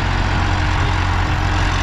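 An Eicher Super Plus hydromatic tractor engine runs with a loud, steady low rumble and broad mechanical noise, unchanging throughout and with no voices.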